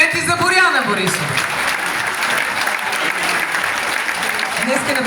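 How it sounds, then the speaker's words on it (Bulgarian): An audience claps loudly and continuously at a 2024 event in Chelopech, dense steady applause filling the whole stretch with faint crowd noise beneath. "Аплодисменти за Боряна Борисова."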